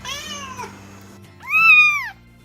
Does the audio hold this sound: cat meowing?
yes